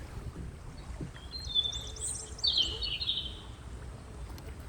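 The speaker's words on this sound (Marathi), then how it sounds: "अरे यार, हा कुठला पक्षी आहे?" A bird gives a few bright, chirping calls at moderate distance near a backwater village on the water in Kerala, heard over a low, steady rumble of boat and water noise.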